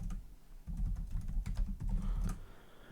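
Close, soft keystrokes as a command is typed on a computer keyboard in a quiet room, a quick irregular patter of clicks for about three seconds.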